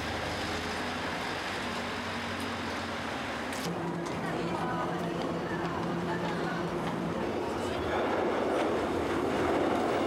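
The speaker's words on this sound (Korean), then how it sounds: "그리고 지하철이 지나가는 소리, 지하철역에서 사람들이 떠드는 소리까지 녹음한다." A subway train passes with a steady, loud rumbling roar and rattling wheels that swell toward the end, over a faint murmur of voices in the background.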